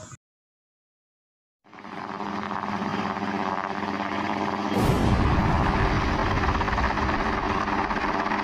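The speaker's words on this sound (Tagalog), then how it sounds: "Helicopter, pasok!" Helicopter sound effect: a short blip, then near-silence, then a loud, steady mechanical engine drone that swells and thickens about halfway through and keeps going without speech.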